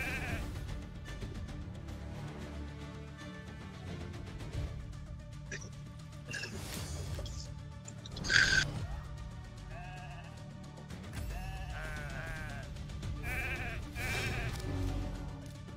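Sheep bleating in the video game Raid Shadow Legends, a few short wavering bleats heard faintly within busy game music and battle effects.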